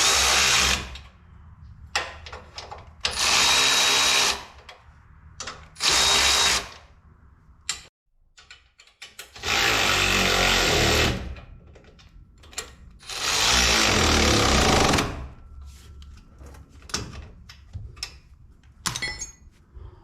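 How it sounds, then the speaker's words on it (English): Power-tool tightening of 9/16 bolts on rock sliders fitted to a 1979 Jeep Cherokee, heard as several loud, whirring bursts of a few seconds each, separated by quieter gaps with small clicks and clanks. "I'm just going to slowly start tightening these up"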